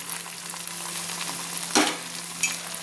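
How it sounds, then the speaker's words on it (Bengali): Tomato paste sizzles and fries in hot oil for a spicy chicken curry, a steady crackling hiss with a couple of sharper spits and stirring scrapes, close up and without talk. "টমেটো পেস্টটা দিয়ে আমি ভালো করে কিন্তু তেলের সঙ্গে কষিয়ে নিচ্ছি"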